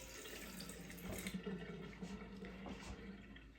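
Running water from a tap pours over a cast iron pan being rinsed in a sink, a steady close splashing stream with brief surges, no talking.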